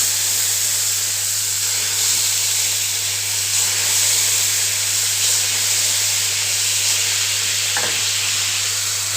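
A splash of water hits hot tempering in a pan for a bottle gourd vegetarian curry, giving a steady, loud steam hiss and sizzle that runs unbroken and alone under a low hum.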